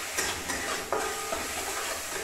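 Stuffing for chilli chops sizzles and fries in a pan, a close continuous hiss broken by a few scraping stirs.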